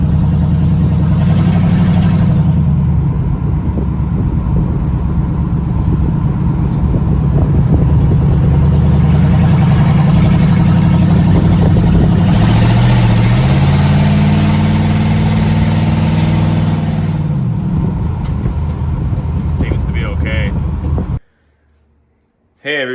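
A 1982 Chevy Scottsdale truck engine runs loud and close, idling then revving up and settling back several times, with a voice talking faintly over it before it cuts off near the end.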